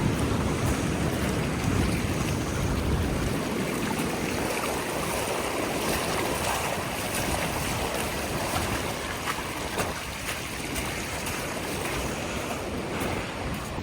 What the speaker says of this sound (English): I'm hiking my pants up and walking right through the water.